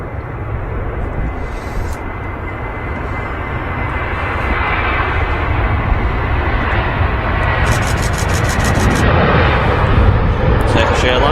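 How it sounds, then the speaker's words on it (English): Turkish Airlines Airbus A330-300 on its takeoff roll at Manchester Airport, engine roar building steadily louder over the seconds, with people chatting over the noise and brief clicking bursts. "Turkish Airlines A330 on the roll now, though."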